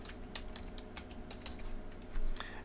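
Rapid typing on a computer keyboard while entering department names into QuickBooks Online: a steady run of close, crisp key clicks with a slightly louder burst near the end, over a low background hum.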